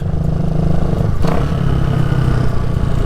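A Suzuki Van Van 200 motorcycle engine runs steadily and loud while riding, with a constant low drone and slight wind buffeting, plus a brief clattery shift-like break near the middle.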